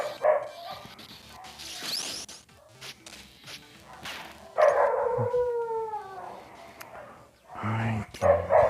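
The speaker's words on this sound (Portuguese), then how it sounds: "Ai, que esses cachorros." Dogs barking and howling, loud close yelps and drawn-out wavering howls in bursts separated by quieter gaps.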